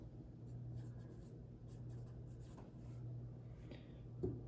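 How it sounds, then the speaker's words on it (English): Pencil scratching across paper while filling in a chi-square independence test answer, a steady quiet writing texture with short strokes over a constant low hum, no voice. "You're going to write the p-value."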